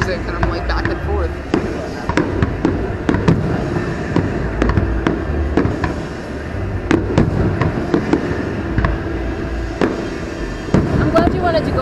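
Fourth of July fireworks in West Palm Beach burst in irregular sharp pops and cracks, some near and some distant, over a steady crowd murmur with talking underneath.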